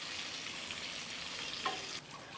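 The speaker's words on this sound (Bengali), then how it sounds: "পটলগুলোকে আমি এইভাবে সুন্দর করে ভাজতে থাকবো" Pointed gourd frying in oil makes a close, steady sizzle with a brief scrape of stirring near the end, no talking.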